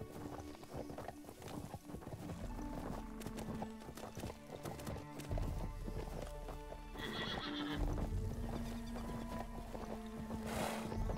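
Horse in the video game Fractured Online, with rapid clip-clopping hooves throughout and a sharp neigh near the end, over a busy game soundscape.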